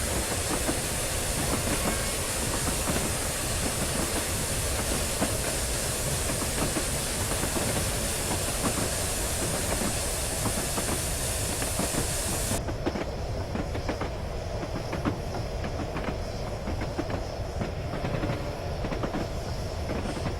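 A black Flying Scotsman steam locomotive in Train Simulator 2015 on the Weardale and Teesdale route hisses steadily while taking on coal and water, a loud continuous rush whose bright upper hiss cuts off abruptly partway through.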